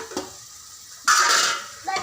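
Ground spices (turmeric, Kashmiri chili powder, coriander powder, chicken masala, black pepper) hitting hot oil in a pan for chicken curry, giving a brief soft scrape, then a loud burst of sizzling with stirring, and another scrape near the end.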